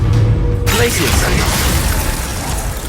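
Glacius ice spell in the Hogwarts Legacy video game, a sudden loud crackling shatter bursting in after a spoken spell name, then a dense icy hiss and rattle that carries on at full strength to the end.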